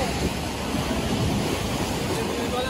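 Sea waves and a strong water current at Digha beach make a steady loud roar of surf, mixed with buffeting wind noise on the microphone, continuous and close.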